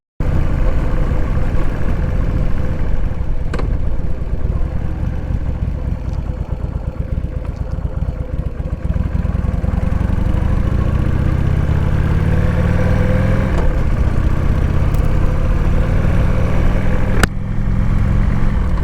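A motorcycle engine runs steadily while being ridden, loud and close throughout, its low drone rising gradually in pitch as it accelerates, with a few brief sharp clicks and no voices.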